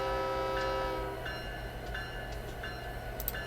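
A diesel locomotive horn blasts in Train Simulator 2019 on the Union Pacific Pleasant Valley coal line, a steady multi-tone chord for over a second. It then fades into a low engine rumble while a cab bell dings repeatedly.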